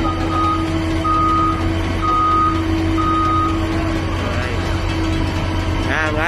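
A Caterpillar 950 wheel loader at a scrap yard sounds a steady series of four evenly spaced reversing beeps over a continuous loud diesel engine rumble.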